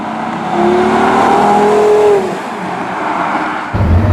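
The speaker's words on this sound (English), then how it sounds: "on the outside, it sounds like a race car" Porsche Carrera GT engine heard from outside, a loud, rising, race-car-like exhaust wail that holds for a couple of seconds, then drops away into a rougher, lower rumble.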